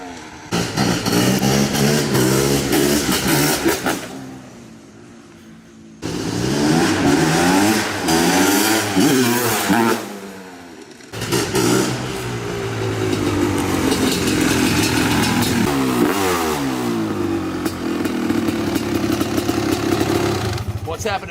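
A 2022 Honda CR500AF two-stroke motocross bike revs repeatedly, its engine rising and falling in loud bursts with short pauses between, then holding a steady drone.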